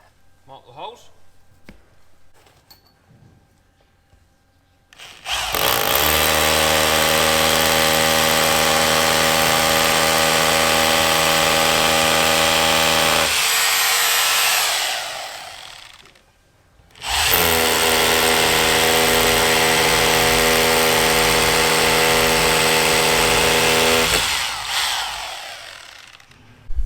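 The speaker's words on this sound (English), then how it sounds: "What a difference it makes having a new drill bit on a good drill." A good power drill fitted with a new bit bores holes in two long loud bursts of steady whirring, each ending as the motor winds down, preceded by quiet handling sounds.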